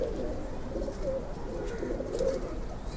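Male pigeons in a loft give soft, continuous overlapping coos, close and low, with no talking.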